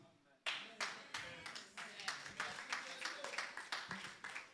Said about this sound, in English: Thank you for those 3 clapping hands of excitement